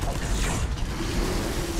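A heavy mechanical door in Space Hulk Deathwing grinds and creaks shut, a loud continuous groan of machinery with no talking over it.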